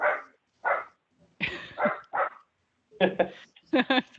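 During a city finance committee meeting, a dog barks in a few short, separate bursts from the background, mixed with speech from the meeting.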